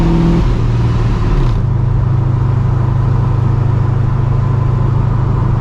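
Steady mechanical whir of dual radiator cooling fans on a cammed, supercharged 1999 Mustang GT running close by, a continuous low hum that shifts pitch slightly early on, then holds even with no talking.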